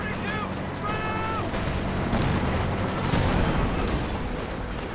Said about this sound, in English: Stuka E fires a bit of damage on the Pathfinder.